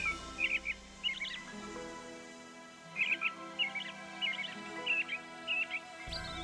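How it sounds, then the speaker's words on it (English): American robin song in the Nancy Drew game Ghost Dogs of Moon Lake, with two runs of bright warbled whistled phrases separated by a short pause, moderately close over a faint low background. "American robin."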